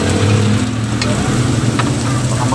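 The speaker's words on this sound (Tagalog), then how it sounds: "init ulit tayo ng mantika. Sira natin itong ating bawang. Sabay na natin itong ating sibuyas." Garlic and onion frying in hot cooking oil give off a steady, loud sizzle with a low hum running beneath it, close and constant throughout.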